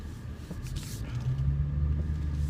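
A 2016 Dodge Challenger SXT, a heavy coupe, pulls away in drive with a low, steady engine drone and road rumble that builds slightly as it moves.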